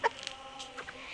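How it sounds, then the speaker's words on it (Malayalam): A rooster makes a few short, soft clucks close by in a quiet setting. "ഇതൊരു പൂവണാണ് കേട്ടോ"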